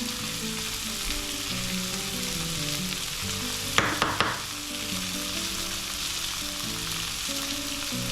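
Chilli powder, turmeric and asafoetida sauté in hot oil in a pan with a steady, close sizzle. A brief burst of stirring scrapes comes midway, and no one speaks.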